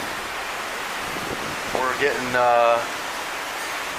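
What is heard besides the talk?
ocean waves and wind during a hurricane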